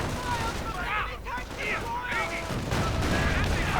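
Tank gunfire from Sherman and Panzer VI tanks in a World War II strategy game, heard as repeated booming shots and crackling battle noise beneath a commentator's voice.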